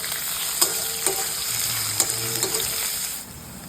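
Chopped garlic, onion, chili, carrot and tomato sizzle in a pan with curry leaves for egg poha. A steady frying hiss is broken by a few sharp clicks of stirring, and it eases off slightly at the end.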